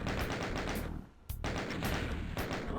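Rapid, continuous gunfire from the Doom game's Plutonia Experiment, a dense rattling stream of shots that cuts out for a moment and then resumes just as heavily, with no talking.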